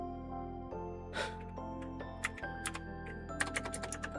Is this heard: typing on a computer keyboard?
yes